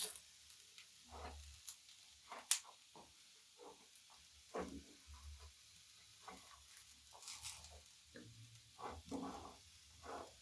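A Gujarati churo of fenugreek and mixed flour roasts in a pan, giving off a quiet, steady sizzle with soft scraping and stirring touches throughout.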